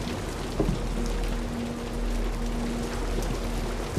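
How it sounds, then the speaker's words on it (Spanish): Steady rain falls throughout the horror video game Supernormal, a continuous broadband hiss with a few louder drops, plus a faint low hum running underneath. "Que esté lloviendo le ha dado un punto, la verdad."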